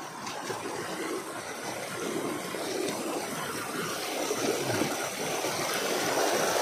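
Clear river water flows in a steady, wash-like rush that swells slightly louder toward the end; no one speaks over it.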